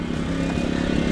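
A portable generator runs at a steady loud drone with a constant rhythmic chug and no pauses, fuelled with one gallon of gas and economy mode off.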